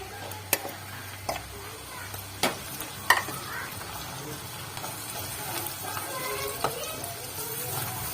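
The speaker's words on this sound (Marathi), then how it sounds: "मसाला चांगला तेल सुटेपर्यंत भाजून घ्यायचा आहे।" Masala for stuffed brinjal fries in oil over low heat, giving a steady sizzle broken by several sharp clinks and scrapes of a spoon stirring against the pan, close by, with a voice faintly in the background.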